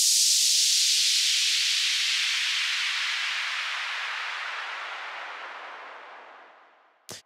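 Ending of a white noise synth riser: a bright hiss that slowly sinks in pitch and fades over several seconds, cut off by a short final thump, with no voices.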